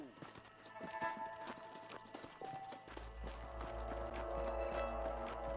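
Horses in the game Red Dead Redemption clip-clop with quick hoofbeats and give a brief whinny, over a rising low rumbling game score and scattered effects.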